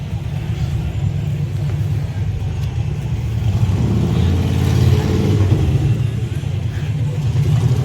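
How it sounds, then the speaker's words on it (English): A loud motorcycle on a downtown Naperville street at night gives a low, rumbling engine roar that swells as it passes, over steady traffic noise and a voice talking. "Oh, it's a motorcycle."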